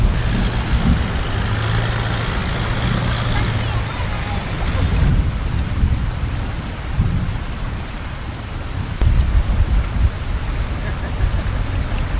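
A thunderstorm in Bangkok during the rainy season: steady heavy rain hisses on surfaces while low thunder rumbles roll through, with traffic-like droning underneath and a voice faintly present.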